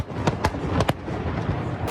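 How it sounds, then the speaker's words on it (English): New Year's Eve fireworks go off at Constitution Dock, four or five sharp, loud cracks in quick succession over a continuous background of crowd noise. "All the fireworks and New Year's Eve revellers calling out our name and welcoming us into the dock"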